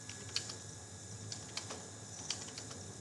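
A few soft, sparse keystrokes on a computer keyboard as values are typed into a Java array program, quiet and isolated with no talking.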